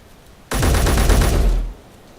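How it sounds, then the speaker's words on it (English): An assault cannon turret in the Space Engineers video game lets off a single loud burst of rapid booming fire lasting about a second, abruptly starting and stopping against quiet background. "that sounds like an assault cannon, which means it's probably a turret"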